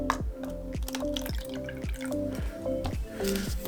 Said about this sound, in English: Let's take our cup and a little water here.